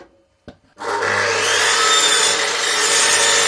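A Makita mitre saw motor spins up and then cuts steadily through a piece of timber, a loud, close, continuous whining rasp after a brief click, with no talking.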